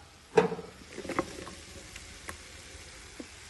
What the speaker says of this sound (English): I'm going to throw my vegetables into that